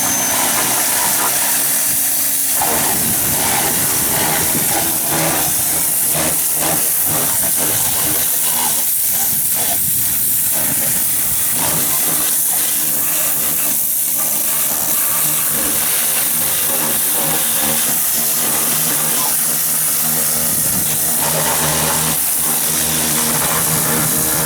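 A pressure washer blasts degreaser off a car engine with a loud, constant hissing spray that barely changes over the whole stretch, with no speech.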